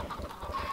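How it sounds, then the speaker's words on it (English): Brief, soft clucking from Minecraft chickens, a few low muffled bursts heard alone at moderate distance. "Oh, the chickens!"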